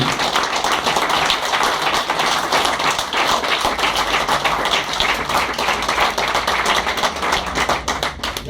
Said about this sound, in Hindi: जोरदार तालियां फॉर श्री सुंदर सिंह